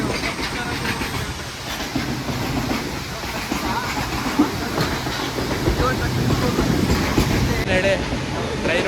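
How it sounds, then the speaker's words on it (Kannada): Train moving along the Bangalore to Dudhsagar route, a steady loud rumble and clatter of rail cars heard from on board, continuous throughout with faint voices in the background. "ಟ್ರೈನ್ ಹೋಗೋದು ನೋಡ್ತಾ ಇದ್ದೀವಿ."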